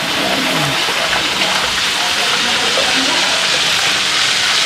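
Steady, dense wash of rain with strong wind, loud and continuous throughout with no break, the rough roar of gusts mixed into the patter; no speech stands out.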